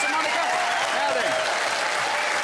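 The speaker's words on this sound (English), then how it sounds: "Give a round of applause, Chris and Monica." A television game show studio audience applauds in a dense, steady burst, with cheering and voices mixed into the clapping throughout the short stretch.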